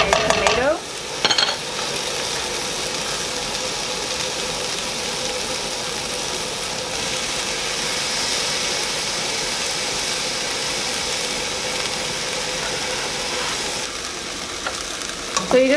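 Chopped vegetables and tomato sizzling and frying in a pan for a homemade caldo de queso, a steady close hiss with faint stirring scrapes near the start and end.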